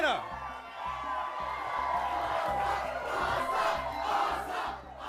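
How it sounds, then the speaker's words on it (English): A theatre full of political rally supporters in Atlanta cheering and chanting in unison, a loud, rhythmic roar of many voices pulsing steadily throughout. "a theatre full of people are cheering and chanting"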